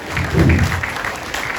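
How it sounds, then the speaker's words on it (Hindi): A brief burst of audience clapping welcomes a guest at a foundation day celebration in Delhi, swelling quickly and then fading within about a second and a half. "कृपया ताली से इनका स्वागत करिएगा।"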